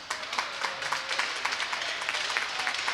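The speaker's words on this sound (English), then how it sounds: "Nice round of applause for them too, please." Crowd applause for hockey teams fills an ice arena, a steady patter of many hands clapping at moderate distance with a few sharper claps standing out.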